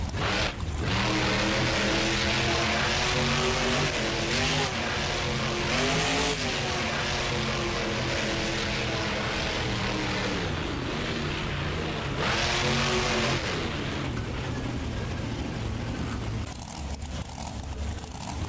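Monster truck engine roaring and revving in the BeamNG Drive video game during Monster Jam freestyle on an Atlanta course, loud and continuous with surging pitch and tire noise throughout.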